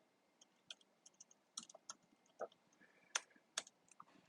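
Typing on a computer keyboard, sparse, irregular key clicks and taps, close and fairly quiet, with no one talking.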